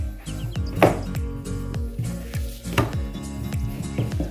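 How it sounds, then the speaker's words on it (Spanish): Dough for Patagonian tortas fritas rolled out with a wooden rolling pin, giving a repeated soft knocking and rumbling rhythm of close, moderate strokes, with no voices. "La estiramos con un palo de amasar."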